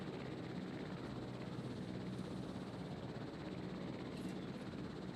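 Helicopter in the Jurassic World Evolution game, a steady faint rotor and engine drone holding constant without pause or change.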